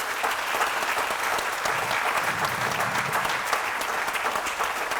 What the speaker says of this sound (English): one last round of applause to all of our scholarship winners tonight